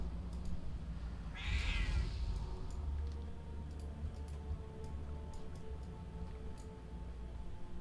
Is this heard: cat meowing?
yes